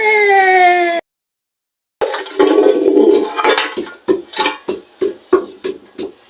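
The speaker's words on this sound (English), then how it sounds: "So I'm pounding my pepper and my tomato" Pepper and tomato pounded in a mortar for village cooking: after a brief whining tone and a pause, a pestle strikes in a steady run of nearby thuds, about two per second.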